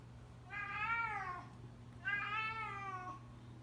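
A cat meows twice in an office, each call a drawn-out, rising then falling cry about a second long, fairly close, over a steady low electrical hum.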